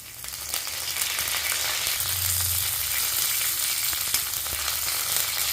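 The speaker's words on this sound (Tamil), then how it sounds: "இப்போ கருவேப்பிலையை போடுறோம்" Curry leaves hit hot oil in a pan of pumpkin tamarind curry, giving a steady, close, broadband sizzle that holds evenly throughout with no talking.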